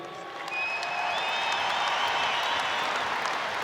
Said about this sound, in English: Warm round of applause for the Broncos as they come up to collect their medals.